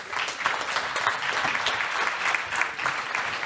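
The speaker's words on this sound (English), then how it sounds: "A round of applause, please, for all the panelists." Conference audience applauding panelists in a hall at a European space conference, steady dense clapping that holds evenly throughout without a break.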